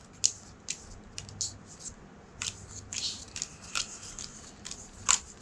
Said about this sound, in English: Shuffle, shuffle, shuffle.